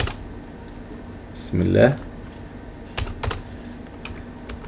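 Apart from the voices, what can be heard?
typing on a computer keyboard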